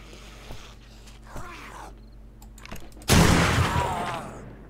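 A loud gunshot burst in the game 7 Days To Die erupts partway through and trails off, following quieter clicks and thuds.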